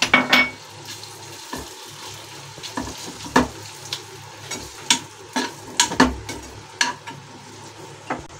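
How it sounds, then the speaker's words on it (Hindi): Paneer frying in a little hot oil in a pan, a steady soft sizzle broken by repeated clacks and scrapes of a utensil stirring against the metal, close and moderately quiet. "अब मैं थोड़ा सा ऑयल फिर से डालूंगी। अब मैं इसमें ये पनीर डाल दूंगी।"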